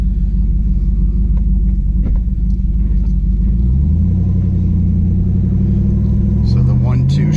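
A Chevrolet Colorado pickup with a swapped-in V8 drives along with a steady, deep engine rumble that shifts in tone midway as it changes from first to second gear, then keeps pulling under load.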